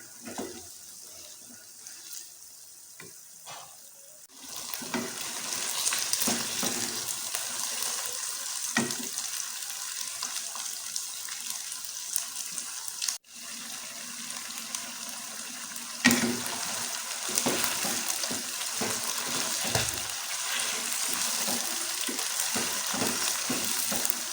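Chicken for biryani, roughly 1.6 kg, sizzles steadily in a pot, with a loud continuous hiss and intermittent scraping and clatter as it is stirred, no voices.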